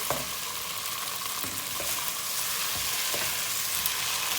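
Potatoes frying in browned tomato paste in a pan, with a steady sizzle and a few faint stirring scrapes and clicks throughout, with no talking.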